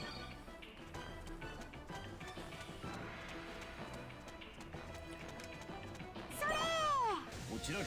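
A house cat gives a single rising-falling meow near the end, clear and fairly close, over a busy bed of game music and background sound.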